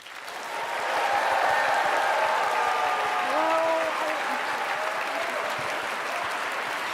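Steady applause from a sizable crowd at the 2024 MIT Mystery Hunt opening ceremony, many hands clapping together at a constant level throughout, with a faint tonal sound drifting in the middle.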